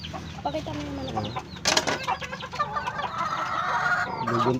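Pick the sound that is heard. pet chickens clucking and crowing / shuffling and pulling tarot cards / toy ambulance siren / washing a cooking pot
pet chickens clucking and crowing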